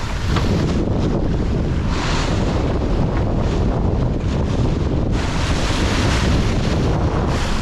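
Steady roar of wind and breaking waves aboard a sailboat moving at speed on the North Sea, loud and continuous with wind buffeting the microphone and surf washing past the hull throughout.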